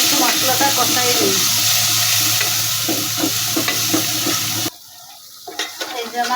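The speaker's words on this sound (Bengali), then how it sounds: "এখন একটু মশলাটা কষাই দিই।" Spice paste of ground cumin and turmeric sizzles and fries in a pan while being stirred for a village-style fish curry, with a loud steady hiss and scraping, then dropping away sharply near the end to quieter clinks.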